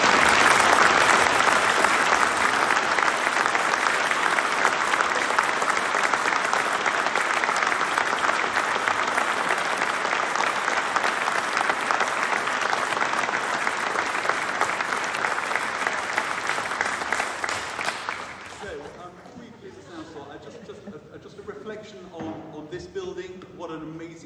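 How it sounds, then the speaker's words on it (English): Loud, sustained applause from a concert audience in the Sheldonian Theatre fills the hall without a break for about seventeen seconds, then fades out, leaving quieter room noise and faint murmuring. "I'd like to give them a clap whether they're here or not."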